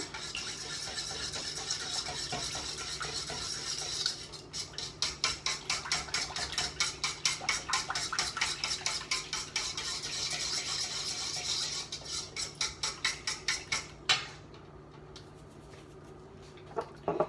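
Ingredients for a vegan, oil-free lemon Easter lamb cake and chocolate treats being mixed together in a bowl, with a fast, steady rhythm of close clinking and tapping strokes that pauses briefly partway through.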